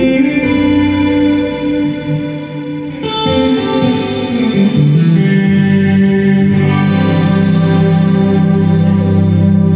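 Electric guitar played through a Boss GX-10 multi-effects unit with chorus, delay and a stereo effect, ringing out loud and continuous with sustained, shimmering chords and notes, no talking.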